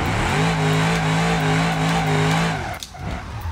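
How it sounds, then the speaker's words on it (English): A loud V8 engine of a Bishop BX car revving in the video game BeamNG.drive, holding a growling tone before dropping off abruptly near the end, with no voices. "That noise is the V8"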